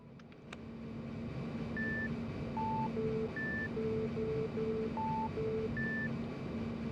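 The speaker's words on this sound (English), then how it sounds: "people hated that stupid beep boop noise" Resident Evil 3 wavelength puzzle device beeping: short electronic tones at several pitches in an irregular pattern, repeating over a steady low hum of game ambience.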